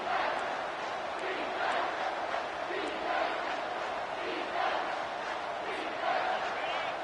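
A large stadium crowd at an American football game keeps up a steady, roaring din with swelling cheers, sustained throughout at a distance and without pause.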